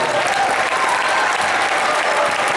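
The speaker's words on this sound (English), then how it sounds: "Let's give them a special round of applause." An audience at a school band awards ceremony applauds the 8th-grade students, a dense, steady round of clapping that stays loud throughout.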